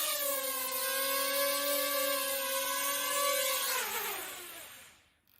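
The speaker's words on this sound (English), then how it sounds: "it took off, it went forward for 2 seconds at the speed of 50 and then it landed" A small quadcopter drone lifting off, flying forward for a couple of seconds and setting down, its steady high-pitched rotor whine holding close and loud before dropping in pitch and fading out as it lands.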